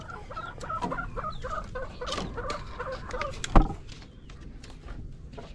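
Chickens cluck and chatter repeatedly nearby in a farmyard where laying hens are kept, with one sharp louder squawk partway through.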